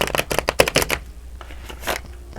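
A deck of tarot cards is riffled close up in a burst of quick, crisp flutters, then a few softer taps and slides as the cards settle, with no talking.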